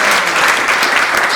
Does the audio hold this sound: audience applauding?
yes